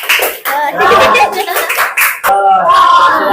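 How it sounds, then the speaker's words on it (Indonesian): Pupils clap their hands together in a classroom, a loud, dense burst of many overlapping claps that dips briefly and resumes, with children's voices mixed in beneath. "Nah, tepuk tangan semua."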